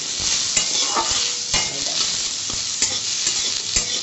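Mango pieces stirred into hot oil with a mustard seed and dry chilli tempering, steady close sizzling with scraping spoon strokes and small pops throughout, no voices.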